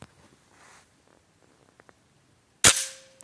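A Reximex Zone air rifle with an unmodified hammer spring fires a slug pellet: one sharp, close, loud crack that rings off over a fraction of a second, joined by a brief steady electronic tone, after near silence.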